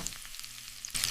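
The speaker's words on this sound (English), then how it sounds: "Then I heard the pan sizzling." Meat frying in a pan sizzles and crackles, a short, close burst of hissing.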